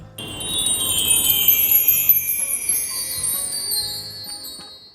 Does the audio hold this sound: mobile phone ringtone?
no